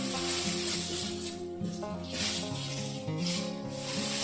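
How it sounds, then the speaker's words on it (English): Tofu sizzles steadily in a hot pan over high heat, a soft continuous crackle beneath louder background music. "I'm still working on high heat while my tofu is getting toasted."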